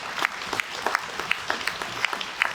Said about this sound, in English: Dr. Tyranny Bates, give him a round of applause.